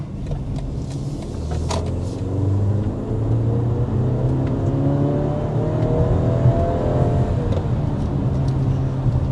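A 2026 BMW X3 xDrive30 under hard acceleration up to 60 mph, its engine note climbing steadily through the gears as a loud, continuous rumble and rising whir from inside the cabin, with no voices.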